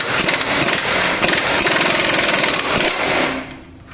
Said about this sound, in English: we're pressing out the new ball joint to press in a different new ball joint